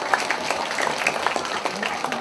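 An audience of mothers at a Balinese arja performance applauds in a brief, moderately loud patter of clapping, with a murmur of crowd noise underneath.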